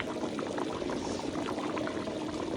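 Vegetables for a hundred people cooking in a large pot, a steady close bubbling and simmering hiss that runs unbroken throughout at a low level.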